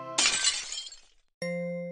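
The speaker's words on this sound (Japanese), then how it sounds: "割れたのはすべて、使わないでと言った食器でした。" Precious porcelain dishes shatter in one sudden crash, a bright burst of breaking fragments that rings and trails off into silence, followed by a sustained tonal sound.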